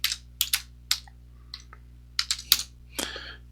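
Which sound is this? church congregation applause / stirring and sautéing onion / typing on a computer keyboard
typing on a computer keyboard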